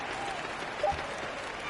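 Arena crowd applauding at a basketball game as Portland wins, a steady broadband wash of clapping and cheering held at an even level, with a brief thump partway through.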